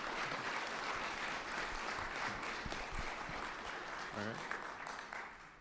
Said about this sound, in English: If we can give them a round of applause, thank them for their thoughtful answers.